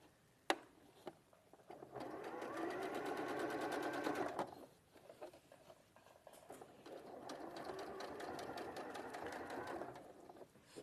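Sewing machine stitching understitching on a facing in two long steady runs of rapid mechanical whirring, close and even, separated by a brief pause with light handling clicks.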